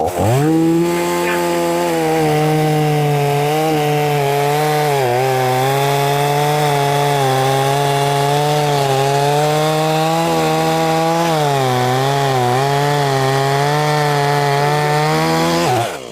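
A chainsaw roars steadily at close range, its engine pitch dipping and rising as it bites through hardwood firewood logs, continuous for the whole stretch.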